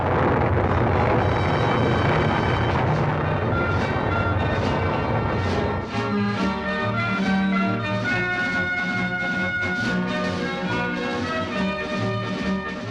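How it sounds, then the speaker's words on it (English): The Apollo 11 Saturn rocket lifts off with a loud, continuous, broadband roar that holds steady throughout, with tonal layers joining in partway through. "Liftoff on Apollo 11."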